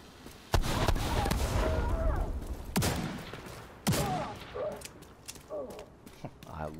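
Shotgun blasts from The Division 2 shooter game, a few sharp, loud reports spaced about a second apart amid game mechanisms and effects, with a voice talking over parts of the clip.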